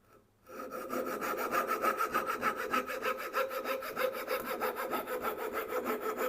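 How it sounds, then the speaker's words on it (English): A fret saw cuts out box joint waste in wood, starting after a short pause, then fast, even rasping strokes repeat steadily and close up with no talking. "Now I can remove this one with a fret saw."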